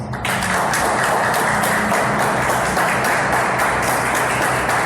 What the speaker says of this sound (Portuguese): Agora sim, vamos aplaudir o Senhor